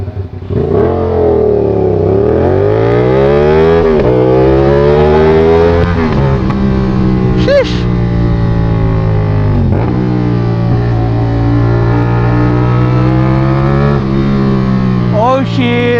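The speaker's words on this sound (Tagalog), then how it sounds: "ma-appreciate rin ito yung mga nakakaintindi ng mga makina ng mga ano 450 SR or ng mga 270 degree crankshaft" A CFMOTO 450SR motorcycle with a 270-degree crankshaft revs repeatedly, its engine note sweeping up and down in loud, close bursts for several seconds with no talk over it.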